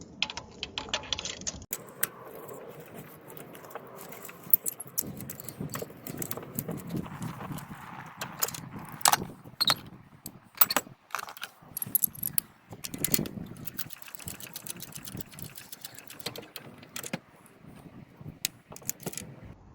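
Spark plugs are worked loose from a Honda Jazz engine with a ratchet and socket, giving a run of quick irregular clicks and metallic ticks, moderately close, with occasional light knocks and no talking.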